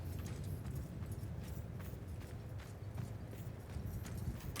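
A group of horse riders moves across a battlefield in Mount & Blade II Bannerlord, with dense overlapping hoofbeats thudding steadily at moderate distance throughout.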